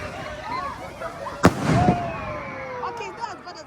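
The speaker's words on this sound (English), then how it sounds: "A firework can't go that high" Bonfire Night fireworks: whistling rockets climb, then one sharp loud bang is followed by a crackling burst and more whistles trailing off, outdoors at moderate distance.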